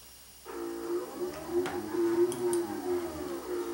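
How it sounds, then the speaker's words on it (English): A quilting machine carriage glides into position with a steady mechanical whir and faint ticks, starting abruptly and running evenly for a few seconds, close and moderately quiet. "The carriage moves to the center of this design"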